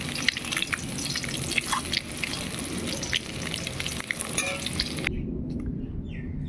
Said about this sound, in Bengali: দেখো বন্ধুরা, ডিমগুলো খুব সুন্দর করে ভাজা হয়ে গেছে